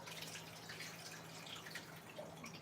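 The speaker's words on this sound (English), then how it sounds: "I'm washing them, so I'm gonna pour the water out real quick." Rinse water from a bowl of washed blueberries is poured out, giving a faint, soft splashing and dribbling that runs continuously with a low background hum, no talking.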